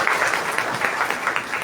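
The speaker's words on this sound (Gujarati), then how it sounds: "આપણે આપણા આવા મહામૂલા અતિથિને તાળીઓના ગડગડાટથી વધાવી" An audience at a book-introduction workshop claps to welcome a guest, a steady patter of many hands at moderate volume, with faint voices underneath.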